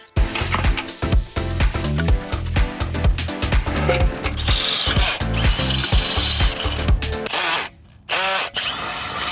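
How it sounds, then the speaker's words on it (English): A ratchet tightens bolts through the outer sleeve into the inner sleeve of a swing set pole, giving repeated loud, close clicking bursts in a steady rhythm with a short pause near the end. "put some bolts in my pocket, but these through this outer sleeve into the inner sleeve and tighten them down"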